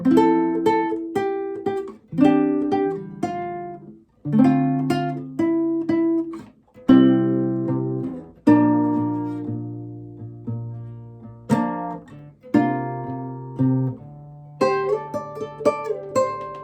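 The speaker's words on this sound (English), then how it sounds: "I'm just doing hammer-ons and pull-offs to keep the melody." A solo guitar plays a melodic riff from a song, notes ringing and sliding into one another with quick hammer-ons and pull-offs, steady and close.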